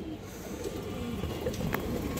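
Pigeons cooing in a crowded loft of colored and high-flying birds, soft low murmurs mixed into a dense, steady background of flock noise.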